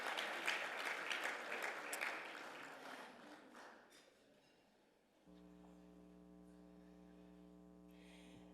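Audience applause at a Hall of Fame ceremony: a dense burst of clapping that fades over several seconds, followed by a steady low electrical hum with no clapping.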